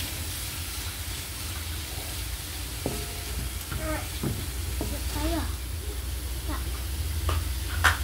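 Mushroom sambal being stirred and fried in a pan, a steady sizzle with scraping stir strokes, while a voice talks intermittently over the cooking.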